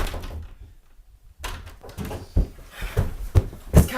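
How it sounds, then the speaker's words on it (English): A door is shut indoors with a few solid thumps and knocks after a brief quiet stretch, heard close with no talking. "Shut the damn door."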